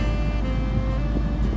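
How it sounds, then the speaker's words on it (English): A BMW X5 engine idles steadily after being started with the ignition, a continuous low rumble with a constant hum, close and fairly loud, with no talking. "Car's running."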